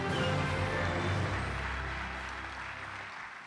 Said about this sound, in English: another round of big applause.